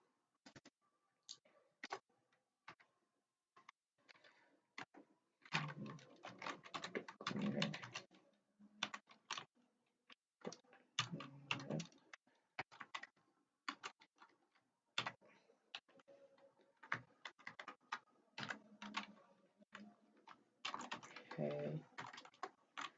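Someone types code in quick bursts on a computer keyboard. The clicks are close and fairly soft, and the runs of keystrokes are broken up by short pauses.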